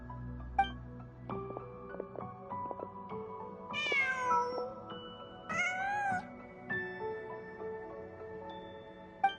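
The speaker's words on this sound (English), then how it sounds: "Just a cat." A cat in the video game Genshin Impact gives two clear, close meows in the middle, set against soft melodic game music with light chime-like notes.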